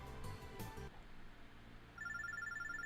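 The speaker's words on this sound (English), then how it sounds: "Phone's ringing." A phone rings in the video game Robotics;Notes as a faint, electronic ringtone with a repeating tone pattern, arriving after a brief burst of game music and a quiet pause.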